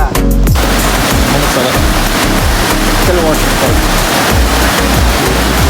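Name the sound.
heavy rain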